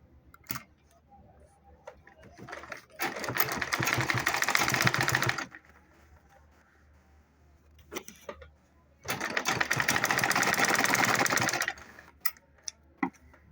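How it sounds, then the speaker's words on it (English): A sewing machine top stitches a large tote bag in two loud, fast whirring bursts of several seconds each, separated by quieter handling clicks and rustling. "So you fold it together like this and top stitch it."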